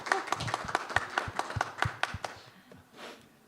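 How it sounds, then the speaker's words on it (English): A small congregation applauds for a reverend at a church service, a short burst of scattered handclaps close by that thins out and fades after a few seconds. "have applause for our Reverend Francis"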